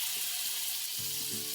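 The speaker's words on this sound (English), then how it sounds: "Now I will add some butter." Butter sizzling in a crepe pan, a steady hiss of bubbling fat heard close up throughout a brief moment, with no voices.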